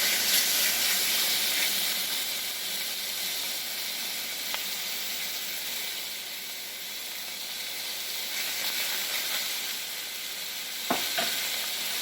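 Poultry sizzles steadily as it fries in olive oil in a professional-style stainless steel wok on a high-powered induction hob, with continuous frying hiss, occasional scraping stirs and a couple of sharp metallic clinks.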